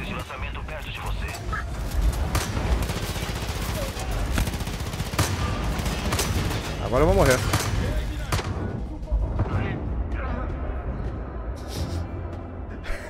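Rapid gunfire in the shooter Far Cry 5 crackles in bursts over a dense combat din, loud and near, with someone talking in Portuguese partway through.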